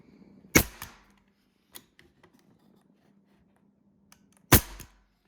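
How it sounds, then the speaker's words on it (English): A nail gun drives nails into wood support pieces during a broken barstool repair, firing two sharp, loud pneumatic bangs about four seconds apart, with faint clicks and handling taps between them. "I can take my nail gun and nail each of these sides in"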